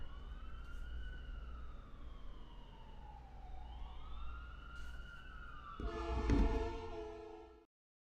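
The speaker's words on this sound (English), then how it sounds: "I live next to a fire station, so I get the pleasure of having to hear the sirens go off" A wailing fire engine siren from a nearby fire station rises and falls in the distance over steady traffic rumble, joined near the end by a loud blaring horn blast before cutting off.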